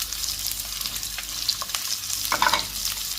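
Onion, green chili, garlic and ginger sautéing in a pan, a steady close sizzle and frying hiss throughout with a few stirring scrapes near the end.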